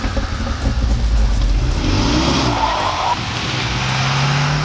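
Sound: sports car exhaust accelerating

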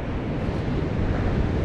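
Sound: wind blowing

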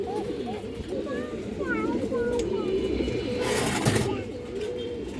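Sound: pigeons cooing

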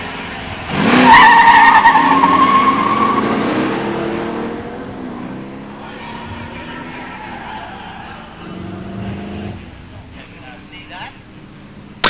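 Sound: 1969 Trans Am and 1987 Mustang drag racing

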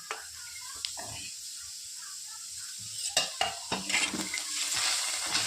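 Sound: garlic added to pan and frying

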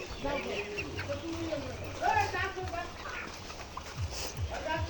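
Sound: chickens on a layer poultry farm

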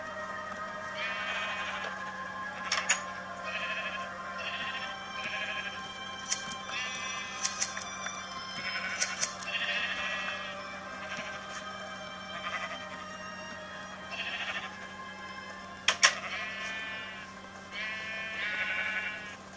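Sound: sheep bleating in the video game Minecraft

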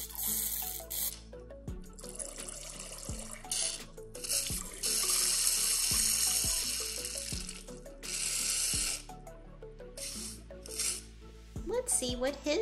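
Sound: water running out of an LOL Surprise boy doll toy

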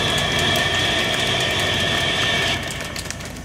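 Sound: voice imitating a train, by an impressionist

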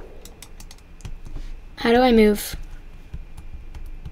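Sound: computer keyboard arrow keys pressed to move in Pikuniku

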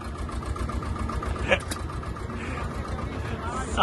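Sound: Swaraj tractor engine idling

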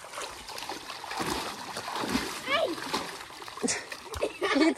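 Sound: dog splashing in muddy water

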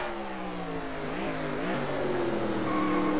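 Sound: classic race trucks' engines racing at Watkins Glen, video game

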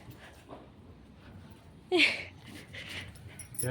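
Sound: dog whimpering

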